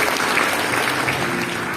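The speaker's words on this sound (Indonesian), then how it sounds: "Boleh berikan tepuk tangan sekali lagi." A church congregation claps in a thick, continuous burst of applause, loud and even for its short length.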